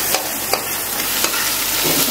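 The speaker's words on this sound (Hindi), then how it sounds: "अभी मैं इसे थोड़ा सा मिक्स कर दूंगी ताकि पूरे में स्वाद इवन ही पहुंचे।" Tomato puree for a paneer curry stirred in a pan on the stove, a steady sizzle with a few sharp spoon scrapes against the metal, close and alone.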